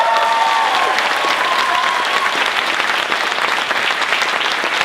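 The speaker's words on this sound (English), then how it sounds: "thank you very much for that enthusiastic applause." Enthusiastic audience applause at a film festival Q&A, loud and dense clapping holding steady throughout with a brief voice or whistle near the start.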